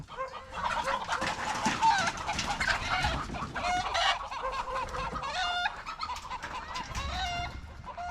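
A dense chorus of native chickens clucking and squawking nearby at a poultry farm in Taif, Saudi Arabia, many birds at once, with a rooster's crow rising out of the steady barnyard chatter.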